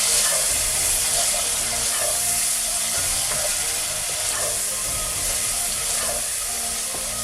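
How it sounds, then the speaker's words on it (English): Turmeric and other spices stir and sizzle in a hot frying pan for a Bengali dry fish curry, a steady close frying hiss with faint scraping of the stirring throughout. "I'm just going to give it a stir now"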